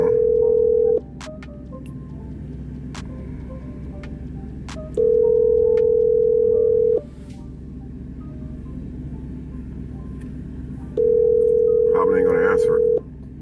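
A phone call rings out on the line in three loud, steady tone bursts separated by pauses, with a low hum in between and brief clicks near the end.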